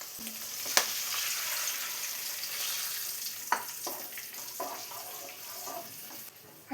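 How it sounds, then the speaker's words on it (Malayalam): Vinegar poured into a hot mango and carrot pickle mixture seasoned with turmeric gives a steady, fairly faint sizzling hiss, with a few sharp clicks and taps scattered throughout and no voices. "ഇതിലോട്ട് ഇനി 1/2 കപ്പ് വിനെഗറും കൂടെ ഒഴിച്ചു കൊടുക്കാം"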